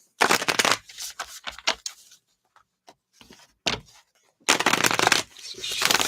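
A deck of cards is shuffled close by in loud riffling bursts, with a long run at the start, a short burst midway, and another long riffle near the end, separated by quieter handling.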